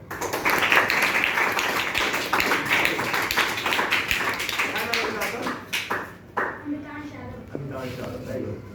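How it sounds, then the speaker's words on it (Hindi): Students in a school career workshop classroom clap loudly at first, then the clapping thins out and gives way to talking voices in the room. "उनके लिए भाई ताली हो जाए"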